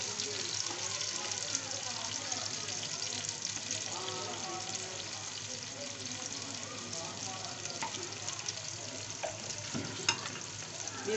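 Onions frying in cooking oil in a pot on the stove, a steady dense sizzle with faint stirring, running throughout.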